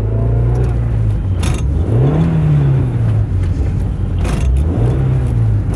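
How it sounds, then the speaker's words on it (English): A noisy hatchback with a faulty second gear drives in slow traffic, its engine whining steadily and revving up and down close by, loud throughout. "this hatchback is a little noisy and a little uncomfortable"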